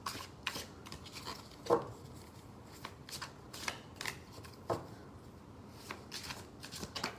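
Tarot cards being shuffled by hand in quiet, intermittent bursts of papery riffling and soft slaps, with one louder snap partway through and no talking.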